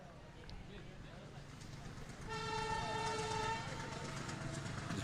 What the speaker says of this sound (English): The train coming from down south.